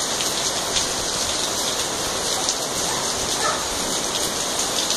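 Steady rain pours down without pause, a dense, even hiss of drops hitting surfaces, loud and close, with no voices.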